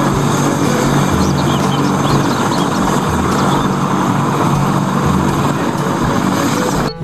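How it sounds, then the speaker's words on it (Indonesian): A loud, steady military helicopter roar of rotor chop and engine noise fills the whole stretch, with no voices. "ini helikopter militer"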